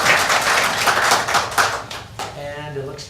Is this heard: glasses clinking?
no